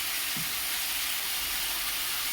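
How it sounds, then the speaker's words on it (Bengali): Spices sizzling in a pan while soybean curry cooks, a steady bright hiss of frying that holds evenly throughout, with a brief low knock early on. "আমি সামান্য কষে নেব এই মশলাগুলো দিয়ে দেবো"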